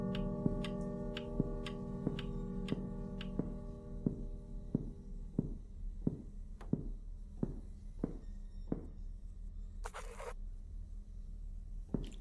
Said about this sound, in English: I hate grandfather clocks. So loud.